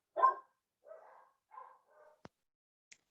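Dogs at a home bark at a propane delivery: a handful of short, fairly quiet barks spaced out over a few seconds, followed by a couple of sharp clicks, with no talking.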